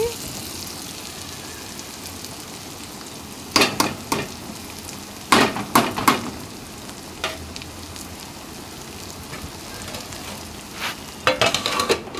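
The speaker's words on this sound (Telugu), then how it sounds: "ఇట్లా చక్కగా సిమ్లోనే ఫ్రై చేసుకోవాలండి" Brinjal with raw peanut powder fries gently on a low flame, a soft, even sizzle broken by clusters of sharp scraping and clattering bursts as the pan is stirred.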